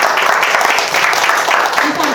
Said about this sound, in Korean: 오늘 강의해 주신 이혜정 교수님께 박수 한번 부탁드리겠습니다.